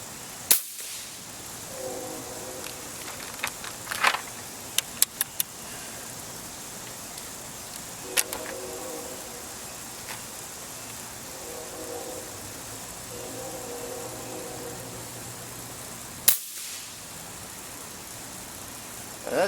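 A tuned Benjamin Marauder .25 air rifle firing five shots, each a sharp, separate crack spread unevenly over about twenty seconds, with faint outdoor ambience and mechanical handling noises between the shots.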